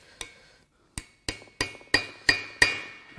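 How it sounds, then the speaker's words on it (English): Sharp metallic hammer blows strike a tool set on a marred bolt of a Hyundai/Kia 2.4 Theta II engine, seven ringing clanks arriving at irregular intervals and growing louder toward the end, each decaying quickly. "we're going to have to hit it with a hammer"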